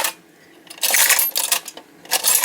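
Bursts of bright metallic clattering and whirring from a Marx WWI clockwork tin toy tank, coming in uneven waves with quieter gaps between, rattling close by.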